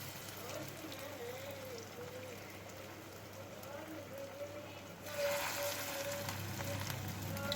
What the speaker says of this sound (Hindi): ऑयल हमारा गर्म हो चुका है, तो अभी मैं बारी बारी करके ये जो नगेट्स है ना ये डालूँगी